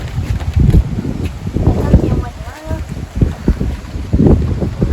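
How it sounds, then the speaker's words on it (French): Strong outdoor wind buffets the microphone in rough, low gusts that rise and fall throughout, while people talk over it. "Ou avant que le vent se calme."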